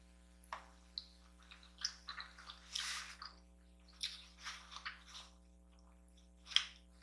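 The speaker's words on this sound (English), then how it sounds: "I gotta eat my kimchi." Someone eats kimchi noodles close to the microphone: soft, wet chewing and slurping in irregular bursts over a quiet, steady background hum.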